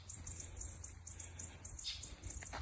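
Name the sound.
bird calling excitedly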